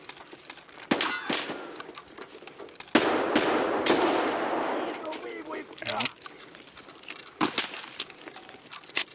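AK rifle gunfire from an AI scav in the Escape from Tarkov video game, sharp cracks and bursts of shots scattered through the clip with loud noisy stretches, while a person talks.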